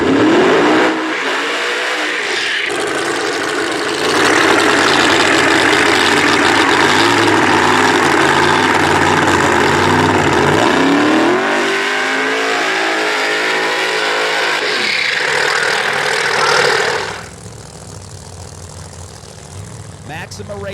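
Funny car drag racing engines roar at a championship finals raceway, a loud sustained blare with surging revs that dips around the middle, then drops abruptly to a quieter rumble near the end.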